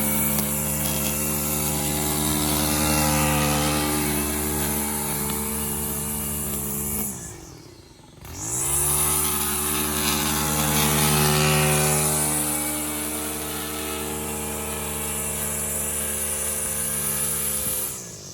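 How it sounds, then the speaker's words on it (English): A Husqvarna V554 zero-turn stand-on lawn mower mows nearby, its steady loud engine drone and blade whir broken by a brief dip around the middle before resuming at full load. "both of these properties were mowed with the Husqvarna 554"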